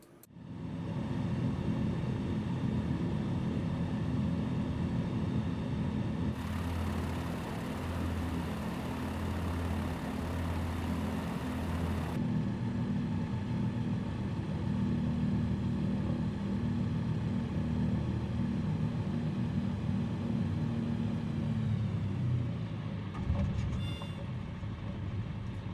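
A Piper Cub in Microsoft Flight Simulator lands at Lydd Airport, England, with a steady, droning small piston engine held at even power, a brief rise in tone partway through, then fading near the end.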